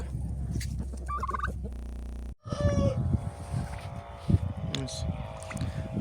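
Chickens and turkeys forage outdoors on a farm in January, soft clucks and a few gobbles close by, with a brief cut partway through and people talking over the birds.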